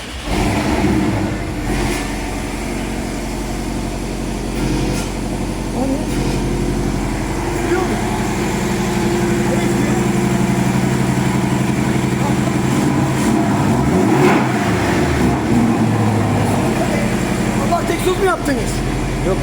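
A car engine in Turkey runs steadily throughout, with some revving swells, while people talk over it nearby.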